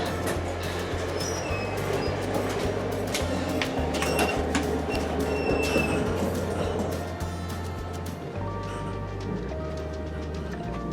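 A steady low rumble with rhythmic rattling and clanking, like a train rolling along rails, continuous throughout with occasional faint high squeals.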